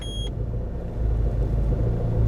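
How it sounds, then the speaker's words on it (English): A 2007 Peugeot Partner Escapade engine idles roughly with a fault lit, a steady low rumble close by that swells slightly in the second half, with a short electronic beep at the start. "So let's get over to the car now and see how it runs."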